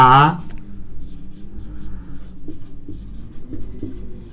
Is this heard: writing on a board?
yes